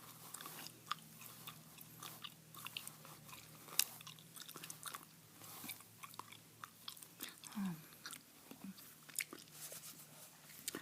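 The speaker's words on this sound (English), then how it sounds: "Here's the bubble gum I'm chewing tonight, by the way. Super bubble gum." Super Bubble gum being chewed close to the mic, with soft, wet smacks and crunchy bites recurring irregularly over quiet background hiss.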